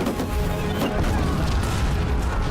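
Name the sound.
explosions in a naval battle film scene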